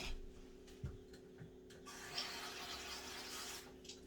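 Water poured into a pecan pie filling made with condensed milk, a steady close splashing trickle running through most of the moment with a soft thump near the start.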